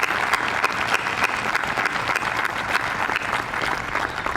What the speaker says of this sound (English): One more round of applause for all of the award winners